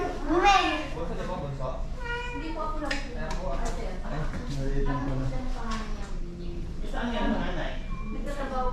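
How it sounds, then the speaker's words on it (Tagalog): A cat meows amid chatter from adults and children; the meows come in short, intermittent calls under and between the voices. "Ayun daw yung pusa."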